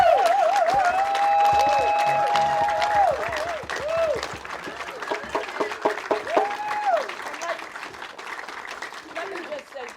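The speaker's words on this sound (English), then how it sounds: "Let's give her another hand clap." An audience at a cemetery dedication and remembrance service gives a woman another round of applause, steady clapping under sung or spoken voices that rise and fall over music before thinning toward the end.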